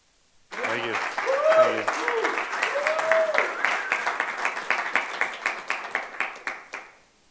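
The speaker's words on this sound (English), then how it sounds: "Keep clapping." An audience at the 2011 SouthEast LinuxFest claps and applauds for a Linux From Scratch talk, a loud, dense burst that thins into scattered claps before fading, with a few voices heard early on.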